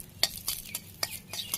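Dried chillies fry in mustard oil while a spoon stirs and scrapes the pan in short, distinct strokes over a soft, faint sizzle.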